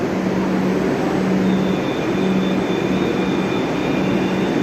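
A metro train pulls into Majerhat station, a steady loud rumble and whine with faint tonal hums, no voices over it.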